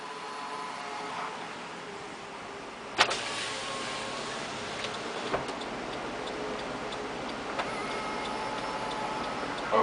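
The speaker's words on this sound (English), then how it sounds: "The front windows are one touch, meaning you don't have to hold the switch for the window to go down." One-touch power window on a 2011 Chevrolet Suburban lowering with a steady electric motor whir through the whole stretch, a few sharp clicks and ticks scattered over it, close and moderately loud, with no voices.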